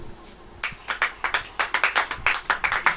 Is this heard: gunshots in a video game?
no